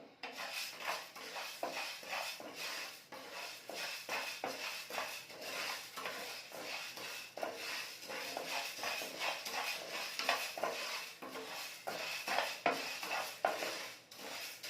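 Urad dal fries and is stirred in a pan over a low flame, making a steady stream of light scraping and rattling against the metal with faint sizzling underneath, no voices.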